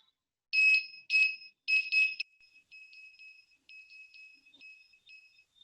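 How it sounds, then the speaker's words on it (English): Electronic beeps from a kids' electronics and robotics project with an IR sensor, three loud pulses in a rough rhythm, then a run of fainter, evenly spaced beeps in a clean, silent background. "Now let's try to generate the beep in a rhythm."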